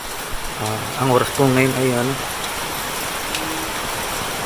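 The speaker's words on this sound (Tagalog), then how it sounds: "Malakas po ng ulan ngayon." Constant hiss of heavy rain fills the background while someone speaks briefly over it.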